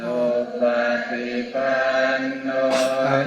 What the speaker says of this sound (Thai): นี่คือเสียงสวดมนต์